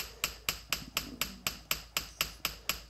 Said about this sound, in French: Et je vais pouvoir marteler.